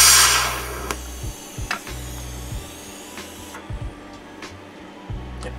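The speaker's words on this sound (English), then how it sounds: "I'm just going to very quickly put a dot of weld on the end of here just to get these two to stick together" Tack welding two nuts and bolts together for a small metal dragonfly sculpture, heard as a steady low electrical hum broken by a series of short, sharp crackling bursts, close up with no talking.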